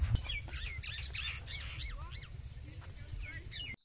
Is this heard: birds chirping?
yes